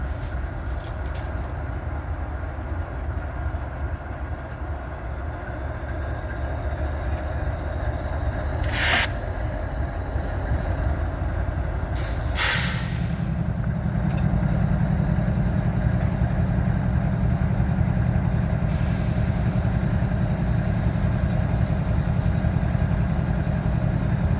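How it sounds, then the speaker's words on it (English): An Abbeville switcher locomotive starts out with a low, steady engine rumble that rises and thickens partway through, with a few brief high squeals or hisses over it. "Abbeville switcher starting out today."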